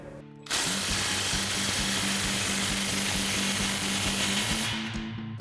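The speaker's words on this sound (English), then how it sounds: "we'll fully tighten down our outlet pipe clamp" A power tool with a 16 mm socket drives down the outlet pipe clamp on a Toyota Tundra's C&L dual exhaust, a loud continuous whirring buzz that starts abruptly, holds steady for about four seconds, then winds down.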